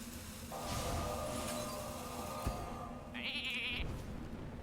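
Sheep bleating in the card game Hearthstone, a short faint in-game bleat set among tonal game effects and a sustained chime, with no voices.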